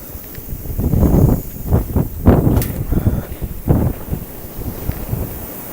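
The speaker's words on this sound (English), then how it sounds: "And here comes the wind." Strong gusts during a blowing snow storm buffet the microphone in loud irregular bursts, roaring and fading over several seconds with no speech.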